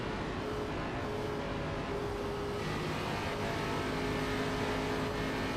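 Onboard an ARCA-style race car at Old Atlanta in an online oval race, the engine drones loud and steady under partial throttle, holding a fairly constant pitch with a slight rise toward the end.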